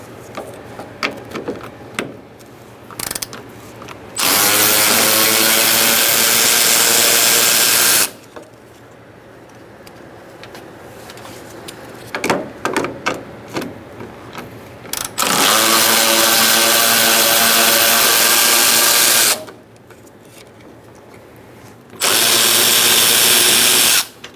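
A power tool with a 10mm socket spins out the bumper bracket bolts on a 2014-2018 Subaru Forester: three long, loud, close bursts of whirring, separated by quieter clicks and handling sounds.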